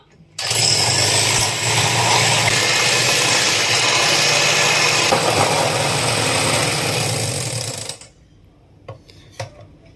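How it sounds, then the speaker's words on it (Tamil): An electric beater whips eggs for a donut cake with a loud, steady whirring drone that runs for about seven and a half seconds, then cuts off, followed by a few light clatters. "இப்போ முட்டையை நம்ம நல்லா பீட் பண்ணிக்கலாம்."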